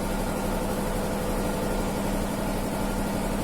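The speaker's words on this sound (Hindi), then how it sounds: "ये यहाँ पे इंजन चला हुआ है" Engine idling steadily nearby, a constant low rumble and hum running unbroken throughout with no talk over it.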